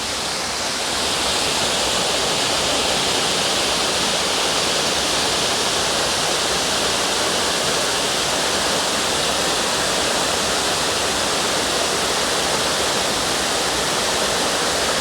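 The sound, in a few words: waterfall, Little Shickshinny Falls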